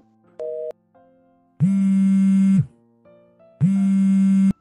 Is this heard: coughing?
no